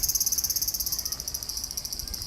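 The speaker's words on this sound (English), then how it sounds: "Brought to you by cicada, which I cannot see, but it's buzzing." Cicadas buzz loudly and continuously on a very hot summer day in Tokyo, a dense high shrill drone with a fast pulsing rhythm, unseen but close, with faint low background rumble.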